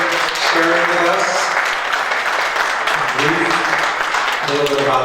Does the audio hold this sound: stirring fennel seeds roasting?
no